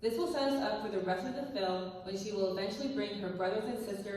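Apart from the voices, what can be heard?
No distinct noise like a dog, phone or traffic.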